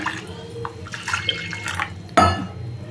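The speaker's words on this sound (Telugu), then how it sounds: "నీళ్ళు వేసేసుకున్నాను." Quiet kitchen clatter gives way to a sudden splash as about a cup and a half of water is poured into a pan with jaggery, a close rushing pour that continues to the end.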